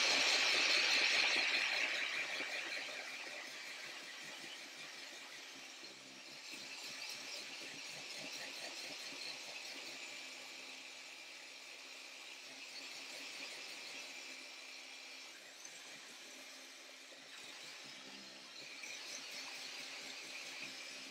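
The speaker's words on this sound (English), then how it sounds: "So I'm going to blend it," Blender whirring through a vegan fish-free fingers mixture, a high shrill motor whine loudest at the start and then settling into a steady grinding buzz with slight rattles.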